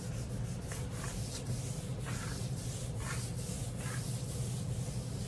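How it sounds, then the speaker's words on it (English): A polyurethane finish on wood being rubbed out by hand, with steady back-and-forth abrasive strokes in an even rhythm, close up and continuous, with no talking. "That way I can really get a good rub, nice and straight."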